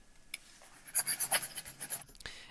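Paper sound effect from a whiteboard animation plugin, a run of crisp scratchy strokes, soft at first, then roughly ten quick rhythmic rubs close up, ending with one sharp rustle.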